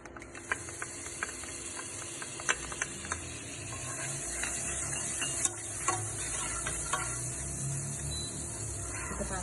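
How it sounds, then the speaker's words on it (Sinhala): Butter melting in a pan to start a bitter gourd (karawila) soup, a soft steady sizzle with scattered small clicks and scrapes of a utensil, fairly quiet and without speech. "අපි ඉස්සෙල්ලාම බටර් ටික එකතු කරනවා."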